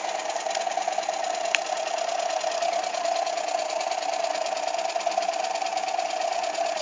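A sensorless FOC-controlled electric motor whines steadily under increasing mechanical load, a sustained tonal hum with a faint high buzz, running alone at a constant level.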